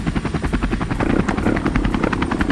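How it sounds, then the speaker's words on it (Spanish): A helicopter's rotor thumps rapidly and loudly, close and constant, with a buzzing engine whine over the pulsing beat. "Aquí viene el helicóptero por si me caigo."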